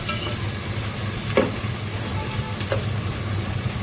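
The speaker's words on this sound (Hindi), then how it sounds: "टमाटर डाल के इसको अच्छे से भूनेंगे" Tomatoes frying and being stirred in a pan for vegetable pulao, a steady close sizzle with a couple of brief scraping stirs, no talking.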